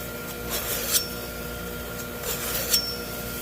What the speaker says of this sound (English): just a few passes to deburr it